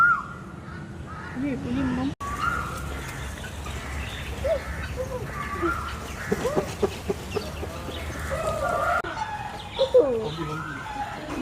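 Chickens cluck and honk repeatedly at Zoo Negara, fairly close, with scattered calls among crowd chatter and people talking nearby.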